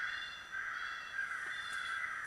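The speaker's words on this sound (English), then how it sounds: "it's driving a crow over here crazy, but cawing at it" A crow caws at a remote-control crow call playing crow and rabbit sounds, the calls faint and distant over a steady background hum, with no talking.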